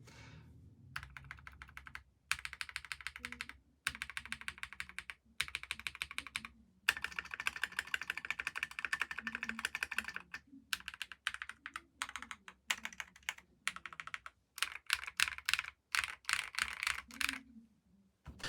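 Close-up typing on a Kiiboom Phantom 81 mechanical keyboard with clear switches, sharp switch clacks in rapid bursts separated by brief pauses, with no voices.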